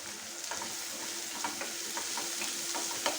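Chicken with chilli powder and turmeric sizzles quietly in a kadai pan while a spoon stirs it, scraping in short irregular strokes over a steady soft frying hiss, with no talk.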